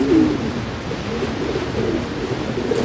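Pigeons on a farm coo softly in low, rolling calls repeated over steady background noise, close by and moderately quiet, with no voices.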